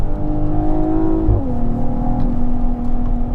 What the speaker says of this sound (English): The engine obviously revs fast, it's very eager to